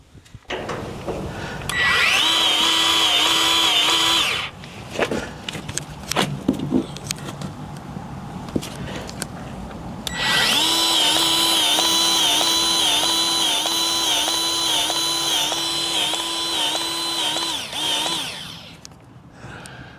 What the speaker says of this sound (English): this electric grease gun or battery powered grease gun is definitely worth the money because I don't have to sit here pumping the grease gun